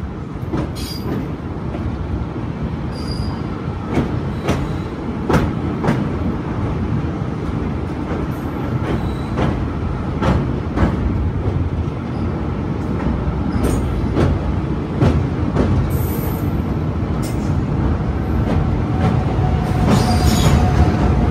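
A sleeper class train crosses the Yamuna river bridge, heard from inside a coach: a loud, steady rumble of running gear with repeated clicks from the wheels and brief squeals, and no voices.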